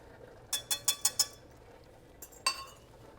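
A wire whisk clinks against a metal pot while stirring a thickening cheese sauce: five quick, bright metallic taps in a steady rhythm, a pause, then two more clinks, all close and fairly quiet.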